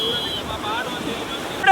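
Sea waves washing ashore at Mangaluru beach, a steady broadband wash with wind noise on the microphone, fairly close and continuous, with no distinct break.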